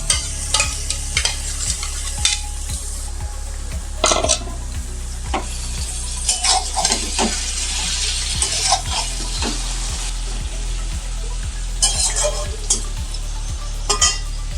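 Mutton is tipped into a pan of deep-browned fried onions, setting off a loud, steady sizzle with regular scraping strokes of a spoon stirring throughout.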